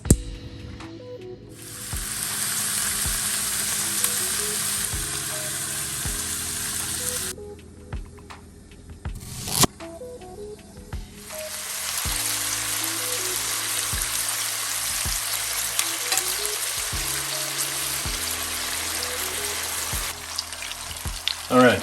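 Pork belly with a maple syrup glaze frying in a pan, a close, loud sizzling hiss that stops briefly midway and then resumes, with bits of background sound in between.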